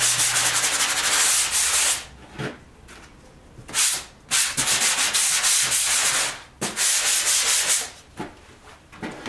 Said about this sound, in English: sand it out